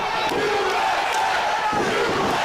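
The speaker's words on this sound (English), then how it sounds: "You hear our capacity crowd here tonight at the LECOM Center in firm support of Team America" A capacity crowd roars steadily through a Team America wrestling match at the LECOM Center, a loud, dense wall of cheering and shouting with no break.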